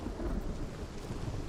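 Rumbling thunder rolls through a stormy scene in Hellblade: Senua's Sacrifice, a dense low roar with faint rain hiss, steady and fairly loud with no voices.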